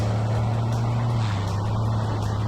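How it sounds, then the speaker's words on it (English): Sling TSi light aircraft engine held at full takeoff power, a steady propeller drone with a constant low tone under wind noise, moderately loud and unbroken. "we're bringing in full takeoff power"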